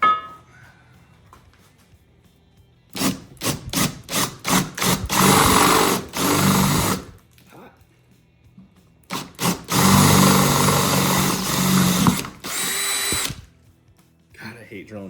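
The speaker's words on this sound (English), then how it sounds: "I hate drilling holes in this." A power drill bores holes in metal in bursts: several quick stuttering pulses, then longer sustained runs with a high grinding whine, separated by quiet pauses.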